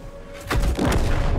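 Two heavy booming shots from tank guns in World of Tanks, close together and loud, leaving a low rumble that hangs on afterward.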